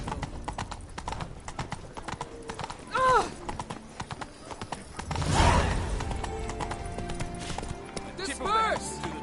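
Roach the horse galloping in The Witcher 3, steady rhythmic hoofbeats close up with a couple of whinnies, game voices and ambience underneath.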